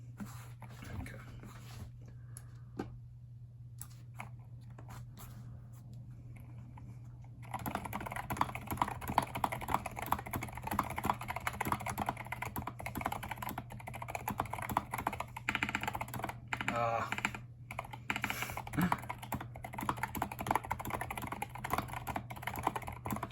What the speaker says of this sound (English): let's do some typing tests